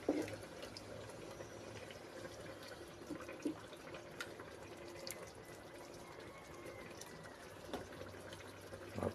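Water pours steadily into a pot, a continuous splashing trickle with faint clinks, moderately close and fairly quiet.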